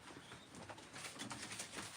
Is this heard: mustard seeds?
no